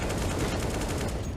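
Rapid gunfire in a competitive CS:GO match on Dust2, a dense burst of cracking shots packed close together, loud and continuous for a brief moment with no voices over it.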